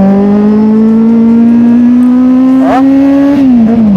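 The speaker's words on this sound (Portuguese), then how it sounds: "E eu ainda fico acelerando ainda." A 2014 Kawasaki Z800 motorcycle engine revs loudly and close by, its steady drone climbing in pitch, then briefly dropping back before rising again.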